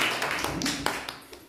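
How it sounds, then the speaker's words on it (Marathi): At a school prize-giving, people clap for the prize winners. The claps come as scattered, irregular sharp slaps at moderate distance, with faint voices underneath. "बाकीच्यांनी टाळ्या वाजवत राहायचंय."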